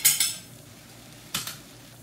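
A spoon clinks and scrapes against a pan while masala is stirred into egg gravy, two quick pairs of metallic taps with a faint scraping hush between them.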